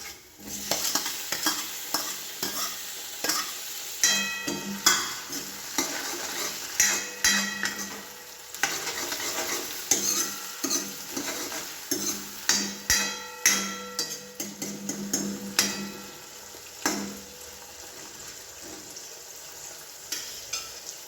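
Tomatoes frying in a pan for a Gujarati dish, a soft sizzle under repeated scraping and clanking stirs of a spatula against the metal, in irregular bursts with no talking.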